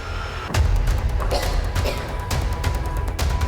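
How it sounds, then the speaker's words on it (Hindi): Heavy booming blasts from Israeli strikes on Tehran, captured in news footage, roll through a dense, rumbling background, with a loud impact near the start and several further thuds that follow. "1 2 3 4 जगह ये बड़े धमाके किए गए हैं।"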